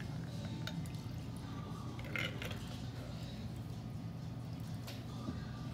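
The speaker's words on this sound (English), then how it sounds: "Pour into the glass." Liquid trickles and drips as a Contessa cocktail is poured through a strainer into a glass, soft and close over low room hum.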